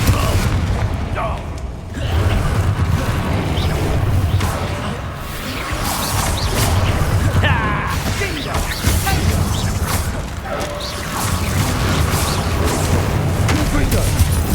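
Spell blasts in the video game Hogwarts Legacy thud and crash repeatedly amid whooshes and clattering combat effects, loud and dense, with a voice calling out spells throughout.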